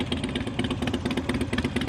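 A motorcycle engine idles during slow-speed riding practice in a Chicago lot, a close, steady, even putter with rapid regular pulses and no voices.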